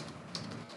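Keystrokes on a computer keyboard while a test case is typed into an Angular app spec file, a quick run of soft, close taps with one sharper click near the middle, with no talking.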